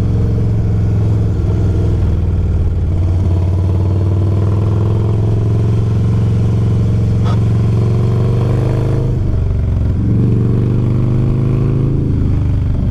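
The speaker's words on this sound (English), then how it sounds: "Jeep coming around the corner" A Jeep rounds a corner on the Tail of the Dragon mountain road, its engine droning steadily and loud throughout, with pitch shifting as it accelerates through the bend and a brief change near the end.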